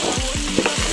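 Rice being stirred in a cooking pot for a Comorian pilaou with coconut milk: a spoon scrapes through the grains in repeated quick strokes over a constant sizzling hiss, close and fairly loud, with no talking.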